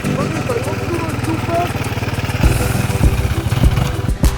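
Enduro motorcycle engine with the throttle held open, a loud, close, rapid rhythmic chugging that grows rougher and heavier partway through, with a voice shouting over it.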